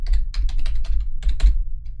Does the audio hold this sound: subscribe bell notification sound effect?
no